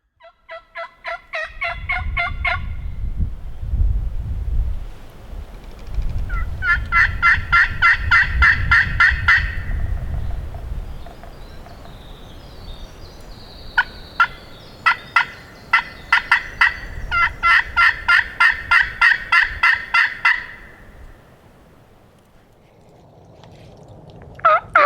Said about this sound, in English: Got my first gobble